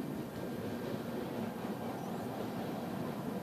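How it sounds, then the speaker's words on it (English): A train rumbles past at a railway bridge opening, a steady broadband roar of wheels and cars with no distinct onsets, faint and continuous. "That's a train, man."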